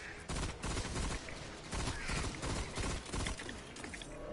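Single heavy shots from an Outlaw hand cannon in Destiny, fired one at a time with reload pauses between them; each loud, punchy report stands out clearly over a busy game background.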